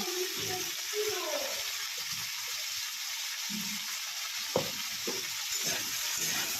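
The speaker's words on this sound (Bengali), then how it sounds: "হালকা করে ভেজে নিচ্ছি" Pumpkin and potato pieces frying lightly in a pan with turmeric and salt give off a steady broadband sizzle, with a few scrapes of stirring and one sharp clink partway through.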